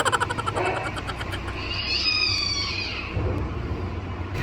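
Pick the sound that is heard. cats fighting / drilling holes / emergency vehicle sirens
cats fighting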